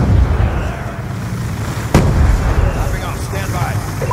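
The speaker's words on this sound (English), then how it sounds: "قنبلة يدوية!" A hand grenade detonates in Black Ops 2 gameplay: one sharp, loud blast about two seconds in, rising out of a steady din of background battle noise and rumble.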